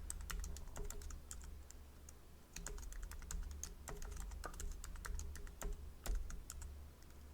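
Password typed on a computer keyboard, a rapid run of quiet, close key clicks in an irregular rhythm, with short pauses and a few louder taps near the end, alone with no voices.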